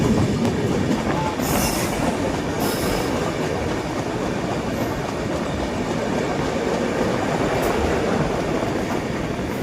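The Howrah Amritsar Mail rolls into Durgapur railway station, a loud continuous rumble of wheels on track with rhythmic clatter and short bursts of high wheel squeal, heard from aboard the train.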